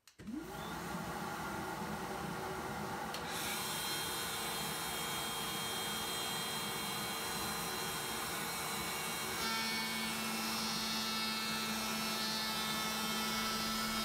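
Saw blade spinning up and running steadily in a woodworking shop, a loud continuous whine and hum that starts abruptly and holds for the whole stretch, with a slight pitch shift partway through and no talk.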